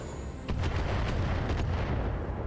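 Inferno mortar fire in the Battletech video game: a sharp blast hits at the start, then a dense rumbling barrage of thuds and booms carries on, loud and close, with no speech.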